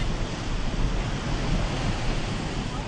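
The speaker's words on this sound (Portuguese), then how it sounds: "Olha que o mar tá picado lá, hein?" Choppy sea off Copacabana, heard as a steady, dense roar of surf and wind with no distinct breaks, loud and continuous.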